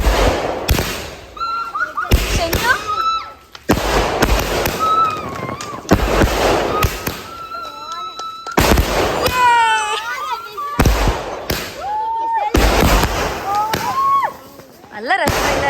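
Large firecrackers burst one after another during a home Eid (Cheriya Perunnal) celebration, giving sharp loud cracks and pops, some with whistling tails, while people talk and call out over them.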